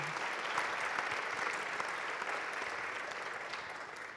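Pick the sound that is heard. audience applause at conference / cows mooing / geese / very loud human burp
audience applause at conference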